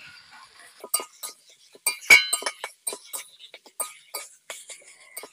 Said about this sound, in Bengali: আর ভালো করে নাড়তে থাকবো।